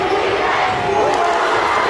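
A basketball crowd roars in a gym right after a banked three-pointer, a dense, loud wash of cheering and shouting that holds steady through the moment.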